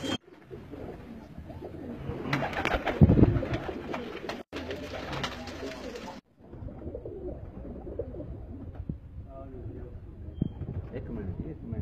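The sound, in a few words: domestic pigeons cooing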